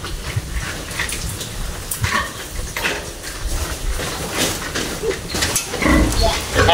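Newly weaned piglets on a hog farm grunt and squeal in a busy pen, with clanking metal and scuffling mixed into a steady, close racket that swells near the end.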